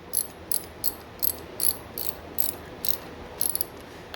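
Ratchet tightening a brake bolt on a 26-inch Hyper mountain bike, a short ratchet burst clicking about every half second, close and clear, with no talk.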